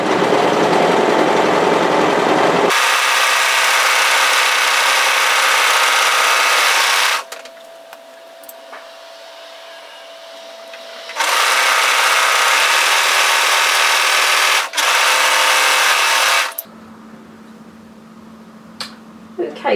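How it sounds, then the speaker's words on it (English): An overlocker serger runs in two long bursts while it sews a shoulder seam on a flutter-sleeve top. The motor hum is loud and whirring, with quieter handling and pauses between the bursts. "I'm going to use my overlocker serger for that."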